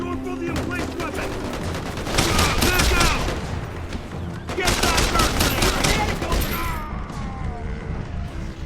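Emplaced machine gun firing in a shooter video game, two sustained bursts of rapid loud gunfire separated by a short pause, with game effects continuing around them.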